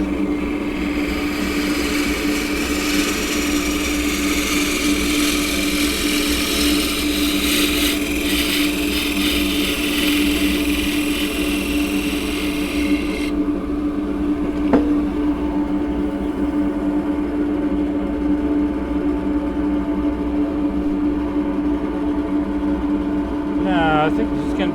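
A wood lathe spins a crossgrain xanthorrhoea bowl while a deep-fluted bowl gouge cuts, with a steady motor hum, a hissing cutting noise through the first half that then stops, and talk over it.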